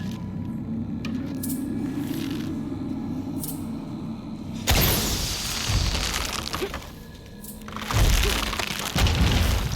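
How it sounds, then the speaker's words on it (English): A heavy explosion in Shadow of the Tomb Raider, set off to swing a hanging platform, comes as a sudden loud boom that gives way to crashing and creaking debris, with a second loud burst near the end. "Explosion to swing the platform."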